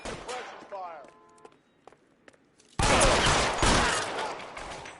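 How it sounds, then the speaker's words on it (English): Suppression gunfire in the video game L.A. Noire: a sudden loud burst of rapid overlapping shots about halfway through, sustained and dense, following a quieter stretch with brief speech and scattered thumps. "I'll lay down some suppression fire."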